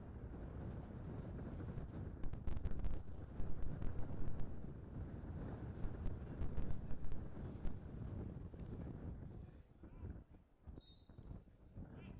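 Wind gusts across an outdoor field hockey pitch during a men's Masters World Cup match between the Netherlands and Wales, buffeting the microphone with a low, uneven rumble that swells and fades over several seconds.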